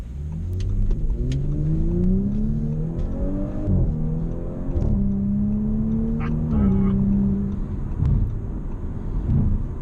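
A 2018 Audi S5 Sportback engine revving up through several gears, pitch climbing and dropping with each shift, loud and close inside the cabin.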